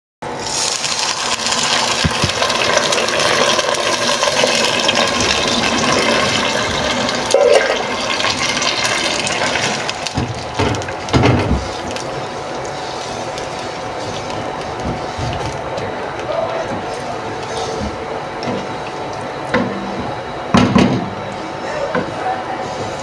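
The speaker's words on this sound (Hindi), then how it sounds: "अब मैं इसमें थोड़ा पानी डालूँगी।" Water pours into a pot of soaked rice and jaggery, a loud, steady gushing rush for about ten seconds. Quieter kitchen clatter and bumps follow.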